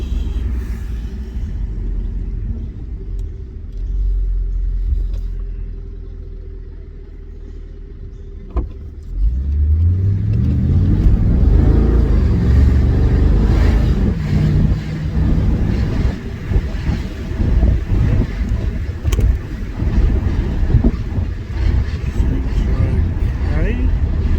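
A 2005 Mercedes AMG E55 with a slipping automatic transmission idles, then accelerates hard, engine rumble rising loud and close as it climbs through the gears, with a person talking over it.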